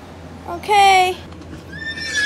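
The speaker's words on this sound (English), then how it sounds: "You got a horsey? Yeah. I got my own horsey as well." A horse in the Roblox video game gives one loud, bright whinny that rises and then falls for about half a second, with quieter game sounds before and after it.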